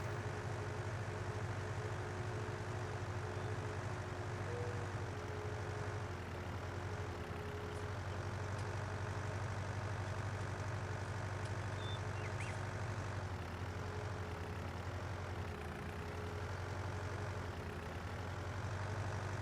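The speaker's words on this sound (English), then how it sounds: "keeps sounding like the tractor's kind of like slowing down" A Ford tractor engine in Farming Simulator 19 drones steadily and loud throughout, a continuous mechanical hum with slight dips as it seems to slow, no talk over it.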